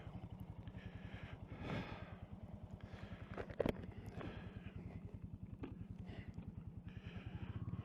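A Royal Enfield Classic 350 motorcycle engine idles close by after starting up, a steady low thumping pulse throughout with a brief sharp knock partway and faint background noise.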